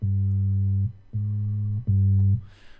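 Three sustained low, smooth sine-wave synth bass notes in FL Studio with clean steady tones, separated by brief gaps, followed by a soft hiss at the end.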